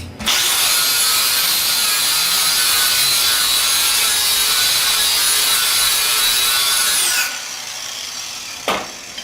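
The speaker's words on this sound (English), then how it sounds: "we go ahead and massage it with our sander until we check here and going back and forth" A power sander grinds loudly and steadily against wood for about seven seconds as the high side of a wing is sanded down, a sustained whining buzz that stops abruptly, followed by a brief knock.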